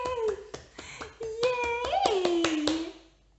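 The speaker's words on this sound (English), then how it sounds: "She can clap her hands now." An eleven-month-old baby girl claps her hands in a string of small, uneven slaps while an adult talks and cheers over them.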